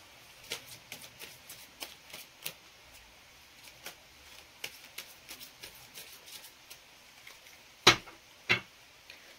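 Tarot cards are shuffled by hand, giving soft irregular riffling flicks and taps, close and fairly quiet, with two sharper snaps near the end.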